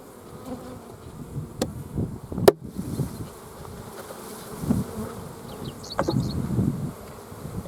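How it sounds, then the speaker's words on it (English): A dense, steady buzz of many honey bees in a hive box close by, with occasional louder swells and a few sharp knocks against wood. "you can see all the bees in it. Ton of bees"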